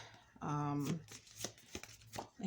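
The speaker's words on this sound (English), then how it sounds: "that's just me putting the cards back in the box" Playing cards riffle and slide with papery shuffling, then a few soft taps as they are handled, under a person talking quietly nearby.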